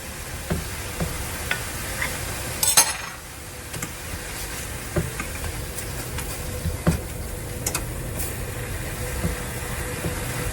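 Sliced mushrooms browning in butter in a skillet give off a steady, soft sizzle, broken by scattered clicks and a louder clatter of a utensil moving them around the pan near the start.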